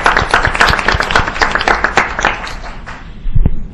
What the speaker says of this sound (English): I think it deserves applause.